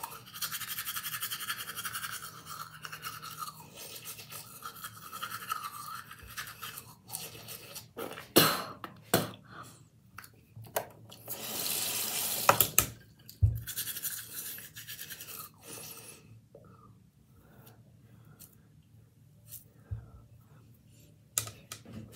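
Teeth brushed close over a bathroom sink, with scratchy bristle scrubbing in bursts and pauses, some louder clacks and spits, fairly near and with no talk.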